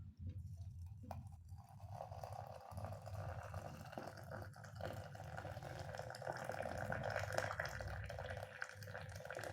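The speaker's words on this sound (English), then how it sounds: "Let's pour in the water." Water pours steadily into a teapot for brewing Darjeeling tea, a gurgling trickle with a rising fill tone, heard close by and without speech.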